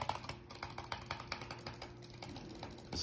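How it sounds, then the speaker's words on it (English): Computer keyboard keys are tapped and clicked rapidly, producing a fast, fairly even run of close, light clicks over a soft background hum. "pressing this key called F7"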